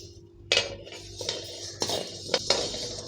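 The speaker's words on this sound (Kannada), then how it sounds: "ಈಗ ಮೆಣಸು ಚಟಪಟ ಅಂತ ಇದೆ ನೋಡಿ, ಸೌಂಡ್ ಪಟ್ ಪಟ್ ಅಂತ ಬರ್ತಾಯಿದೆ ನೋಡಿ" Peppercorns crackling while dry roasting in a pan for homemade sambar powder, a handful of sharp scattered pops and clinks over a low background, close and fairly loud.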